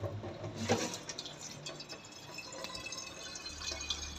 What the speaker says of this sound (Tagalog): So ngayon, refilling muna tayo ng mga tubig natin sa Gripo Stock